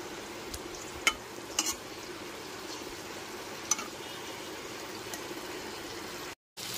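Potato and eggplant pieces with spices are stirred in a frying pan, a steady soft sizzle carrying a few sharp scrapes and clicks of the spoon. The pan sound runs alone at moderate level and cuts out briefly near the end.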